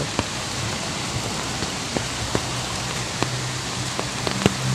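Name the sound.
rain falling at a bridge while fishing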